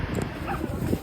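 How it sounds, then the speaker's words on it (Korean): A dog barks and whimpers at a street crossing while someone waits for the signal, several short yips close by over a steady outdoor background. "강아지가 저를 보면서 짖는 건 기분 탓일까요?"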